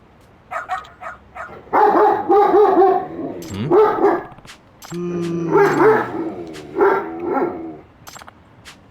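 A dog barks repeatedly in the video game Lost Judgment, sharp yips and whimpers mixed with louder barks, close and irregular, with brief game voices between them.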